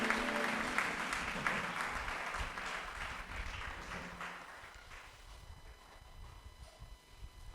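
A church congregation claps and cheers in praise during a worship service, a dense, loud wash of applause that thins and fades over the last few seconds.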